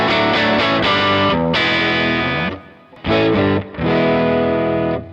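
Overdriven electric guitar through a 2x12 cabinet simulation rings out sustained chords in a few phrases, loud and close, with a short pause and muted stabs between them.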